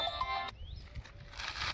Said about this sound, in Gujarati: હવે આ બીજી વખત આવ્યો ફોન